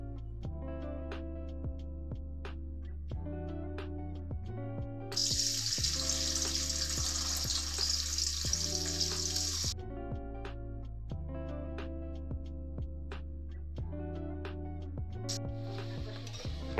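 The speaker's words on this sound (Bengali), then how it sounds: "সবজিগুলো আমি ততক্ষণ ভাজবো যতক্ষণ ওগুলো ভালো করে ফ্রাই না হচ্ছে।" Mixed vegetables hit hot refined oil in a pan for fried rice, and a loud hiss flares for several seconds before settling. Background music runs steadily underneath.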